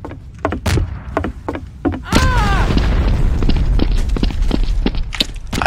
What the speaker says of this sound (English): I think a C4 just went off